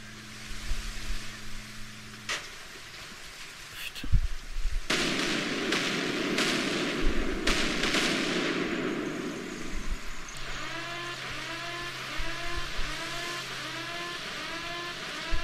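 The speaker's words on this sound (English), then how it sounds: "c'était une explosion ici" Explosion in GTA San Andreas amid street traffic: a sharp loud blast near the middle, followed by crackling bursts and a roaring car engine revving close by, with a steady horn-like drone at the start and end.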